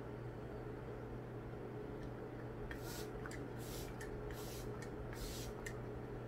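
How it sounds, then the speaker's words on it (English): A Luxe Organix facial mist spray bottle gives a series of short, fine hissing sprays, about six bursts in uneven rhythm, close and fairly quiet over a steady low hum. "it is a little finer than the usual spray"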